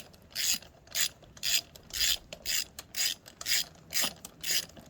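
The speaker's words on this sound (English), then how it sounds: "I'm gonna tighten up all these bolts, and then I'm gonna tighten up all the nuts separately" Ratchet wrench tightening bolts on a go-kart: about ten regular, evenly spaced bursts of ratcheting clicks, close and clear, with no talking.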